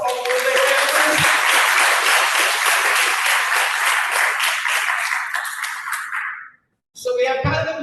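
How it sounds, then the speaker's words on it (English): A school audience of families bursts into loud applause, a dense sustained clapping that fills most of the stretch before thinning out, falling briefly silent, and starting up again at the end. "Give yourselves a round of applause for all of their families."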